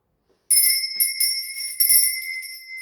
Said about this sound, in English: Now, before I continue, I'm going to ring my bell.